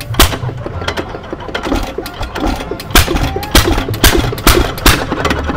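An antique hit-and-miss engine running under load, firing fast and hard in a rapid, uneven string of loud sharp bangs with mechanical clatter between them, close by.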